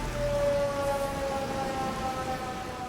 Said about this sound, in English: We continued to play the sirens over and over again.